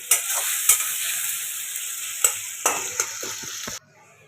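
Spice paste sautés in a hot pan with a loud, close sizzle, broken by several scraping stirs of a spatula before the sound cuts off abruptly near the end.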